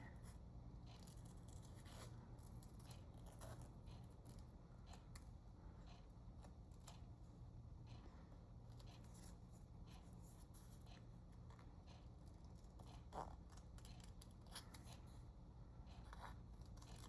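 Scissors trimming a black craft piece for a potion bottle pin, giving quiet, irregular snips and paper scrapes close by over a steady low background hum, with no talking.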